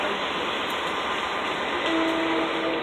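A Long Island Rail Road Main Line train arrives at a platform, a loud continuous rushing rumble with a faint high squeal rising partway through, close by and without talk.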